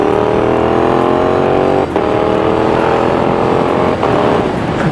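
A Yamaha MT-07 motorcycle fitted with a Healtech iQSE quickshifter accelerates hard and loud, the engine note climbing through gears with brief dips at each quick upshift.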